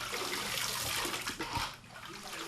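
Silver parts for a traditional Korean ornamental knife are scrubbed bright with valley sand and water, giving a continuous wet, gritty swishing that stays close and fairly loud before easing off near the end.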